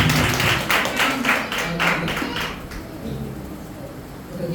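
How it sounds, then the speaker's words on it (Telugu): A church audience applauding during a Sunday Mother's Day service, with a burst of dense clapping that fades after about three seconds into quiet room tone. "క్లాప్స్ కొట్టండి."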